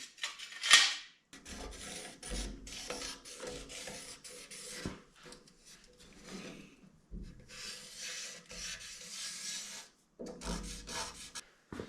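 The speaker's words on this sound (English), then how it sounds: "Draw some Sharpie lines on this thing." A Sharpie marker is drawn along a giant T-square across metal in a small welding shop, making repeated close scratchy rubbing strokes separated by brief pauses, with a sharp tick near the start.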